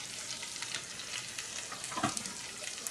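Chopped pork frying in a pot for goulash, a continuous soft sizzle broken by scraping stir strokes, with one brighter clatter of the utensil midway.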